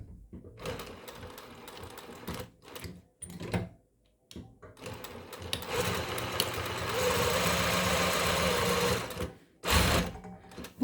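A zigzag sewing machine stitching a cord bag, running close and fairly quiet in several bursts of rapid mechanical chatter, with short pauses and one longer steady run.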